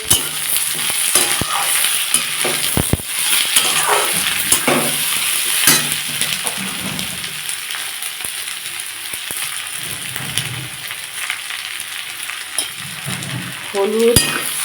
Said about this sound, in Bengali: এগুলো দিয়ে আমি তরকারিটা ভালো করে কষে নেব